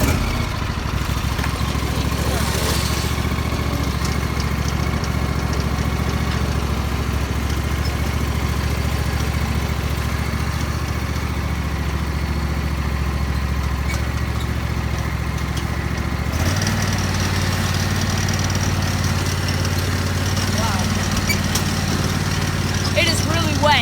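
A garden tractor engine runs steadily with a low idling drone throughout, then its pitch and loudness rise as it revs up near the end, while people talk over it.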